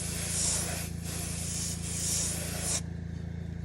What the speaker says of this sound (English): I ordered a new nozzle for this airbrush